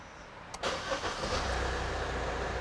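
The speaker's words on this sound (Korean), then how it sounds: "시동 걸어보겠습니다." An all-new Kia Sorento engine cranks with a short starter whir, then catches and settles into a smooth, steady idle nearby, with no talking.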